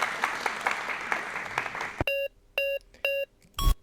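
An audience claps in a dense, steady burst of applause for about two seconds, which cuts off abruptly and gives way to a short series of electronic beeps.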